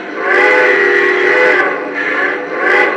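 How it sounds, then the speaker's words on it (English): Model train sounds from T1 and E8 locomotives, with a loud steam-style whistle sounding in long sustained blasts, followed by two shorter toots, under a steady running rumble. "So the running sound is the T1 and the E8s."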